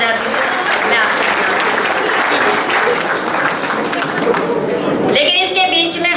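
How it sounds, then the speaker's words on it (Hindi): Loud, dense audience applause fills a Holi-themed humorous poetry gathering (kavi sammelan) at IIMT, a steady roar of many hands close by, with a voice cutting in near the end. "एक बार जोरदार तालियां बजा दीजिए"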